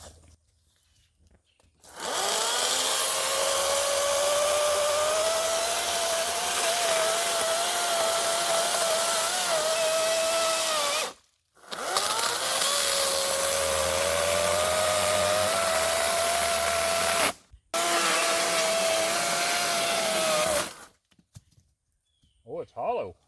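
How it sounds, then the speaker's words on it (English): An electric chainsaw whines loudly in two long bursts cutting a hollow tree, with brief pauses between, its pitch dipping slightly as it bites into wood. "we're going to be using our electric chainsaw"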